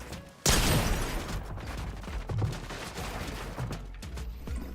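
Gunshots in an online first-person shooter game: a sudden loud burst opens a dense, noisy stretch of rapid firing, followed by further scattered sharp shots, with no talk.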